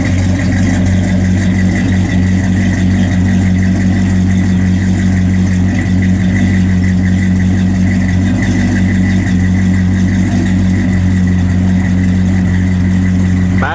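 A 1955 Chevrolet Bel Air two-door hardtop idles steadily through its exhaust, a loud, continuous low rumble with a deep even throb and no pauses, heard alone without any talk.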